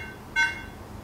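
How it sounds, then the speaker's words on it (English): An iMac gives a single short startup beep, signalling a hardware failure, clear above a faint steady hum. "The beep sound means hardware failure."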